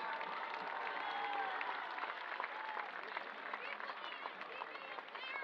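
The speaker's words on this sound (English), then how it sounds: "Please give a big round of applause to our current honorary S members." Outdoor crowd at a high school football game applauding honorary members, a steady wash of clapping and cheering that holds evenly throughout, heard from the stands at moderate distance.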